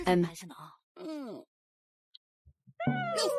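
A cat meows in a rising, falling wail, followed by a second drawn-out meow after a pause, with a few soft knocks in between and voices around it.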